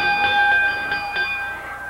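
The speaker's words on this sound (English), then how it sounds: "Referee says ring the bell." A wrestling ring bell rings in a quick series of four bright clangs at a Memphis wrestling match, each ring lingering and fading into a metallic hum.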